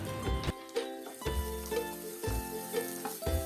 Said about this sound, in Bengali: রসুনটিকে একটু নাড়িয়ে এর মধ্যে দিয়ে দেবো 2টো মিডিয়াম সাইজের পেঁয়াজ কুচি, 2 থেকে 3টি কাঁচা লঙ্কা কুচি।